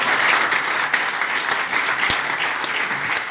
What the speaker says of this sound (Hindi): अरे अब तो बजा लो ताली।